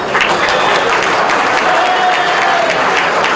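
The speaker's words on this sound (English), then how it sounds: "big applause, please" A full room of guests at a Delhi Wine Club event, its 200th gathering, breaks into loud, dense applause, a continuous wash of clapping close by that holds steady without letting up.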